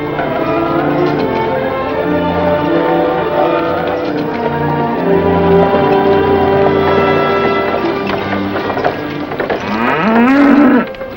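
Cattle low in a Western-film ranch scene by an open gate at night, the moo rising loudly near the end over a steady layer of music.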